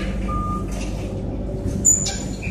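A truck is loaded while a reversing alarm beeps. A heavy, steady engine rumble carries under it, and brief thin tones and clanks come through nearby.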